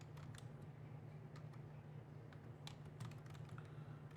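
Someone types on a computer keyboard in a quiet room, with sparse, faint key clicks scattered irregularly over a low steady hum.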